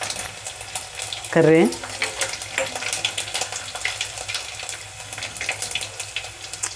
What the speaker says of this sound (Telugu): కొద్దిగా వెల్లుల్లి వేగనిద్దాము